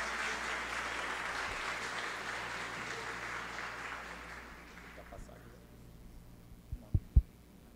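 Applause at an official ceremony for the launch of an integrity plan, a broad wash of clapping that fades out over several seconds, followed by quiet room tone and a couple of low thumps.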